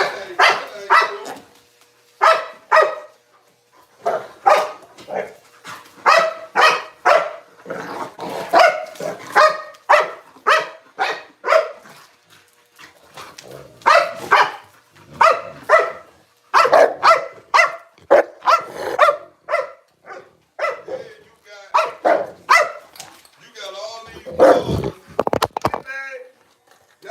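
A dog barks over and over at close range, loud repeated barks in uneven bursts with brief gaps, joined by a person talking at times.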